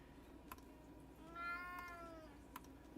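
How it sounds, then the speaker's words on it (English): A cat gives a single drawn-out meow, faint and indoors, with a few soft clicks from typing around it. "can meow at me all you want"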